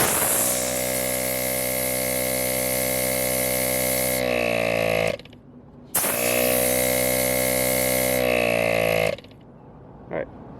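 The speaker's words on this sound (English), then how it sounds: "Compressor's turned on right there." An ARB single air compressor runs in two loud, steady whining bursts of a few seconds each, its motor winding down after each run, with a short quiet gap between them.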